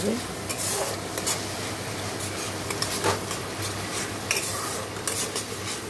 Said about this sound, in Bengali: দেখো মশলাটা কষিয়ে নিচ্ছি।